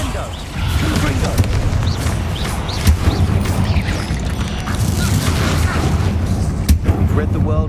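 Spell-blast explosions from the Confringo curse in Hogwarts Legacy, fired amid a spider fight: sustained loud booming and crackling impacts with sharp bursts, continuous over the whole stretch, with game voices mixed in.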